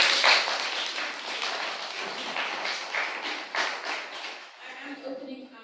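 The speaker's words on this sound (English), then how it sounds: "I really think they deserve a round of applause." A room full of people at a fashion school panel discussion clap for the panelists: dense, steady applause lasting several seconds, then thinning and fading near the end.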